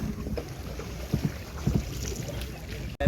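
Country boat on the backwaters around Munroe Island, a steady low rumble of water and wind with a few soft splashes or paddle knocks, then a brief dropout before the noise resumes.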